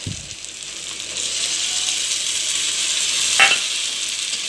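Tomato paste sizzling and frying with cooked-down spices in a pan for a mackerel curry, a soft continuous hiss with a brief stir-scrape near the end.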